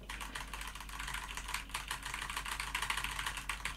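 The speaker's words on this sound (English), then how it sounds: "Let's see how annoying this keyboard is." Steady, rapid keystrokes on a computer keyboard clatter throughout during a Rainbow Six ranked gaming session, close and fairly quiet with a faint low hum underneath.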